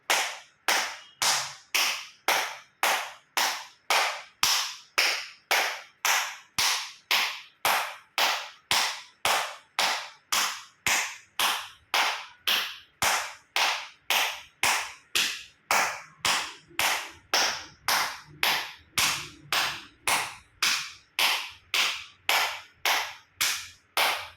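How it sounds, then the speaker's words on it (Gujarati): Acupressure clapping with full palms and fingers touching, a long run of sharp, loud, evenly spaced claps at a steady brisk rhythm, with no talking. "એક્યુપ્રેશર તાળી જોરથી પૂરેપૂરી હથેળી આંગળીઓ બધું ટચ થાય એ રીતે 50 વખત તાળી આપીશું."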